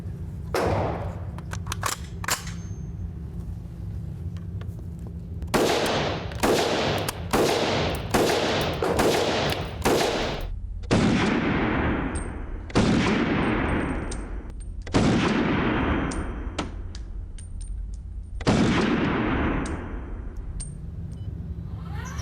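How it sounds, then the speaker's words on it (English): A rented gun is fired at an indoor shooting range, first in a rapid string of loud cracking shots, then slower single shots with booming reverberant tails, no talking. "I had to rent a gun and come out and shoot a few rounds."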